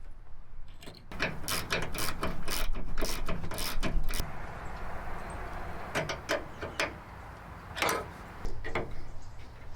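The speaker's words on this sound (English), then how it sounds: "now we're going to actually bolt our lights themselves to the brackets" Ratchet wrench tightening 11mm bolts and nuts to mount Baja Designs S1 ditch lights on their brackets, giving bursts of close, rapid metallic clicking strokes with short pauses between runs.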